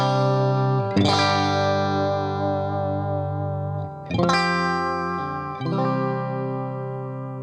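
An electric guitar played with its compressor bypassed strikes three chords, each ringing out with long, slowly fading sustain. The tone is bright and slightly gritty, and the guitar plays alone.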